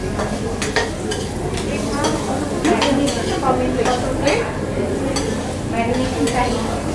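A marinade with a splash of white vinegar is stirred in a pan during a Chinese cookery workshop, giving steady scraping and soft sizzling with light clinks of utensil on metal while someone talks over it.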